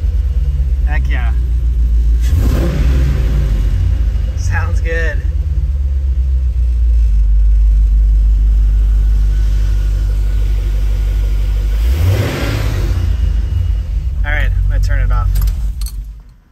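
A 1974 Corvette with a swapped 4.8 LS V8 running on its first start, a steady low idle rumble with a couple of brief revs, while people talk over it nearby.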